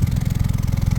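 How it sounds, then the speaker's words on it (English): Exhaust leaking at a rotted pipe joint on a Hyundai Elantra, a loud, close, rapid low puffing and rumbling pulse from the running engine, steady and even with no talking. "it's allowing exhaust to leak through that spot there"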